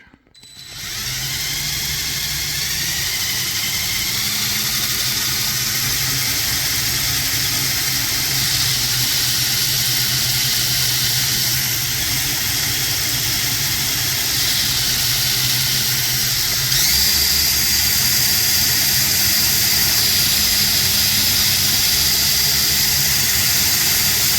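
Electric motors and gears whine steadily in a Lego Ripsaw model with differential steering, a continuous high-pitched drone running alone for the whole stretch, rising slightly in pitch near the end.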